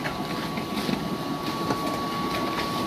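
A concrete mixer used for making hollow blocks runs with a steady, loud mechanical drone and a constant hum, unbroken for the whole stretch.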